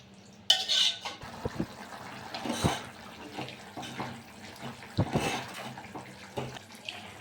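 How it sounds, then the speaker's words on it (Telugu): Water is poured into a cluster bean and tomato curry in a pan for gravy, a splashing gush followed by sloshing and stirring clatter, close and moderately loud, with no talk. "గ్రేవీ కోసం కొద్దిగా వాటర్ని యాడ్ చేసుకుంటున్నాను వాటర్ యాడ్ చేసుకొని కలుపుకుంటున్నాను"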